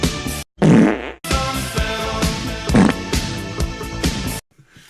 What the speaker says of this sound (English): Skip the game, go to the farts.